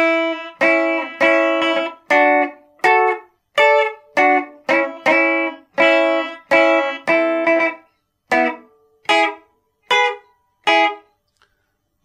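A distorted electric guitar plays a rockabilly solo of quick, choppy notes in bursts with short pauses, thinning out toward the end.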